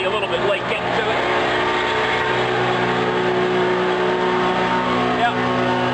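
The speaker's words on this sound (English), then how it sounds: "blower's making that noise" A pneumatic blower on a bulk truck unloading at Michigan City runs as a loud, steady drone with a strong humming tone. It holds constant with no breaks for the whole stretch.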